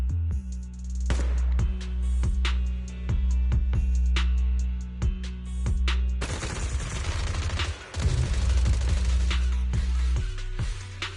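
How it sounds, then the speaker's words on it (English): Sustained bursts of rapid video game gunfire, suppressive marching fire, crackle and pop over a low droning hum, the shots growing denser and more chaotic partway through, loud and continuous. "Gunfire? This pattern. Suppressive marching fire."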